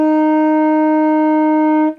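A single steady drone pitch is held for about two seconds, a rich, buzzy tone with many overtones that stays loud and unchanging before cutting off. It appears to be played as a bagpipe-style drone for a children's music demonstration.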